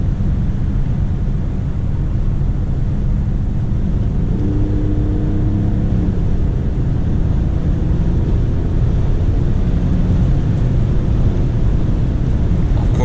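2022 BMW X6 engine accelerating while driving in traffic, a steady low roar with road and cabin rumble, a faint rising tone emerging midway as revs build, continuous and moderately loud.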